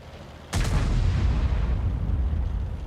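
A single loud tank cannon shot firing a high-explosive shell in World of Tanks, from a T49 tank destroyer, booms sharply and then rolls into a long, heavy rumbling tail under a steady engine drone.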